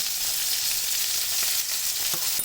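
Cod fillets fry in melted butter in a pan, giving a steady, close hiss and sizzle with faint crackles throughout.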